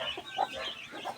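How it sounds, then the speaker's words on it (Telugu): Baby chicks, sickly and newly hatched, give soft high peeping chirps in a brief, faint cluster close by. "కోడి పిల్లలు అయితే బాగానే లావుగా పెద్దవి పుట్టినాయి"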